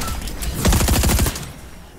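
Rapid bursts of automatic gunfire from a Warzone-style shooter video game, a dense fusillade of overlapping shots that swells mid-clip and then tapers off, loud and close with no talk over it.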